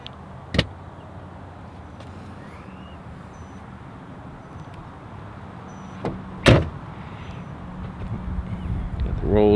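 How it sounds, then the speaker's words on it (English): The boot of a 1986 Rolls-Royce Silver Spur opens with two sharp, close clunks, one near the start and one mid-way, over a low steady background rumble. "You can open up the boot right there,"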